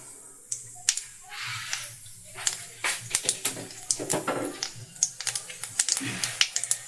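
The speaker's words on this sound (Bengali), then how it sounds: "গোটা জিরে আমি দিয়ে দিলাম ফোড়ন।" Whole cumin seeds sizzling in hot mustard oil, a fast irregular crackle of sharp pops and spits over a low hiss, fairly close, with no speech.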